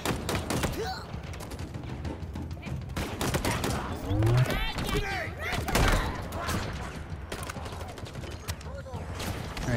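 Rapid bursts of gunfire from a Halo campaign firefight, sustained volleys with thumps over busy game noise and some speech-like voices throughout.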